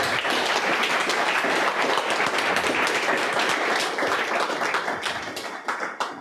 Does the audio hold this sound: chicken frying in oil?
no